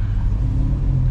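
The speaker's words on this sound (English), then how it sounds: "I wish you guys could just hear these burbles in person" A C8 Corvette's exhaust gives a brief, low, burbling rumble while driving, close and steady over road noise, with no talking.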